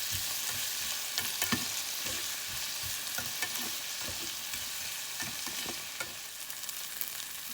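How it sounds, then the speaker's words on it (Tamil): Tomatoes and onions for kothu dosai sauté in a hot pan, a soft continuous sizzle broken by frequent light clicks and scrapes of stirring, close but quiet, with no voices. "தக்காளி நல்லா வதங்கணும்."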